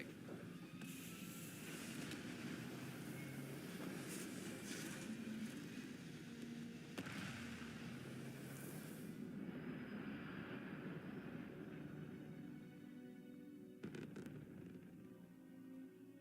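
A spaceship in Starfield lifts off with a steady, faint engine roar that holds and swells for about sixteen seconds, with a few sharper bursts near the end and no talking.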